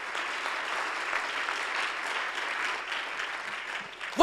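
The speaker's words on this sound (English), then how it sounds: "Would you give the Lord a clap offering right now?" A church congregation gives a sustained round of applause during a sermon, a steady wash of many hands clapping at moderate distance, ending as a voice begins.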